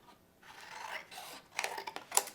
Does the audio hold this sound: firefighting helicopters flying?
no